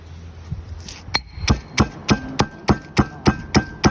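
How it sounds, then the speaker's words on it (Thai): Larb curry paste of coriander seed, shrimp paste and roasted spices pounded in a mortar: about ten loud, evenly spaced thuds, close up, with no talking. "เราก็จะเริ่มโขลก แกงนะคะ เครื่องแกงลาบนะคะ"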